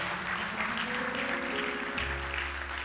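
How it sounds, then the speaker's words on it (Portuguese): Applause from a church congregation, a steady, dense wash of clapping that fills the room at a constant level, with a low hum and some faint murmuring underneath. "Você pode aplaudir Jesus pela palavra deles."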